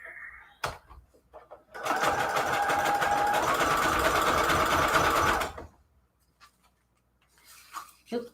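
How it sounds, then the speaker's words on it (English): A sewing machine stitches fabric pieces together in one loud, steady run of rapid mechanical whirring for about four seconds. Quiet handling noises come before and after it, and a voice briefly sounds near the end. "I'm just going to sew these together like this"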